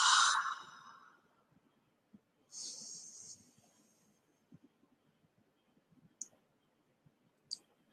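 A deep breath is taken and then released in a loud, breathy sigh, followed by a second softer exhale and a few faint clicks in near silence.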